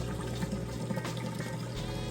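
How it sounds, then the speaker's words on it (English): An Amana washing machine drains its wash water, a soft steady rushing and gurgling flow with a low hum underneath, faint and continuous. "It's draining that water out right now."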